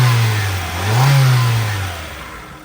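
A 1996 Honda CR-V's B20B 2.0-liter four-cylinder engine rises from idle into a single smooth rev, then settles back down, heard close and loud with no talking.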